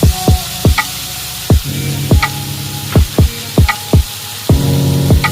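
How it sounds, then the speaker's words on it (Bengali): Spice paste sizzles in hot oil with fried cumin in a pan. A loud, steady sizzle sits under repeated sharp clanks of a spatula against the pan. "জিরে আমার ভাজা হয়ে গেছে। এবার আমি মশলাটাকে দিয়ে দেব"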